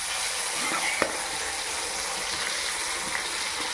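Bitter gourd slices frying in oil in a pan, a steady broadband sizzle with a few faint clinks, running continuously at moderate level with no voices.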